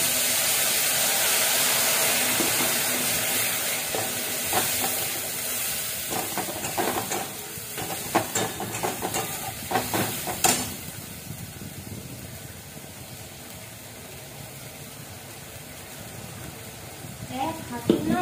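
Masala paste sizzles with fish in a hot pan, a steady broad hiss broken by scraping stirs and bursts of crackling, then settling to a softer fry.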